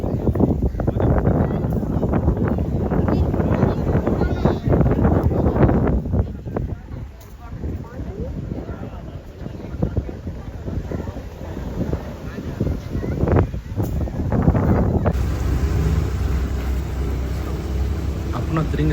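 Strong wind roars steadily across the microphone during a backwater boat ride at Poovar near Trivandrum, Kerala, with faint rumble beneath. People talk throughout under the continuous gusting.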